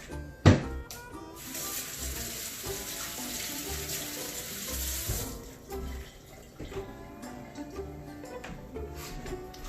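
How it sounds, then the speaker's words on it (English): Running kitchen tap water pours steadily as a hand is rinsed under it, with a sharp knock near the start and the broad wash continuing at moderate level to the end. "I'm going to rinse my hand."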